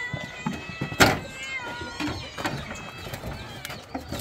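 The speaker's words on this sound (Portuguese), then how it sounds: "Tem 12 de gato aqui, não é de um em um não" Several cats on a farm in Minas Gerais, Brazil, meow close by. One sharp, prominent meow is followed by quieter, scattered mews, with soft thumps and rustling around them.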